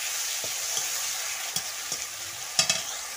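Spice paste fries in oil in a pan for a rohu fish curry with potatoes, a soft steady sizzle broken by several light scrapes and taps of a stirring spoon, no voices.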